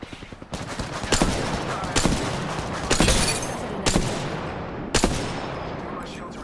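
Gunfire in the Apex Legends video game: sharp shots or short bursts roughly once a second, about six in all, ringing out over a steady bed of in-game noise.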